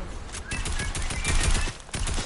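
Rapid gunfire in a shooter video game, bursts of automatic shots crackling in quick succession, loud and close with a few brief pauses between volleys.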